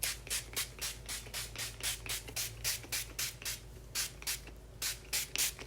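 Hair spray or styling product is misted onto wavy, curly hair at the roots in a long run of short, close, hissing bursts at an uneven but steady rhythm, with no talking.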